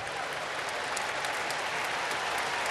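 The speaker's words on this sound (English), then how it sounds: "Got a nice round of applause as he makes his way back" Steady crowd applause fills a baseball stadium as a batter walks back to the dugout after striking out in an Angels at Mariners game, a dense even wash of clapping with no voices on top.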